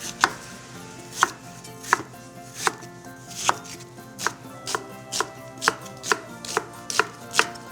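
A knife chops pear, onion and green onion steadily on a cutting board, crisp regular strikes about one per second, close and clear with no voices.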